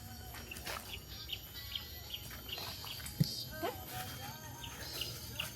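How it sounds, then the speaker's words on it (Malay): Birds chirp and twitter intermittently in trees nearby on a hill hiking trail, short bright calls scattered over a quiet outdoor background, with a few faint sounds mixed in. "Kat pokok ni bunyi burung."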